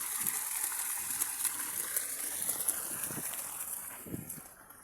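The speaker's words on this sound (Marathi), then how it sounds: "इथे पाणी चालू आहे त्याचं." Water gushes steadily from the outlet of an Ecozene 5 HP solar-powered pump, a continuous rushing wash with a faint wind-like hiss that eases slightly near the end.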